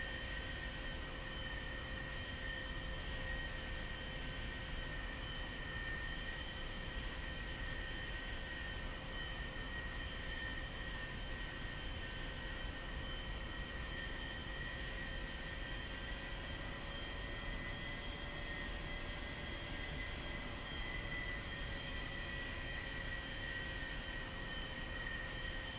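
An A-4E jet in the DCS World simulator taxis with a constant engine drone and high whine that holds steady throughout, with no talk.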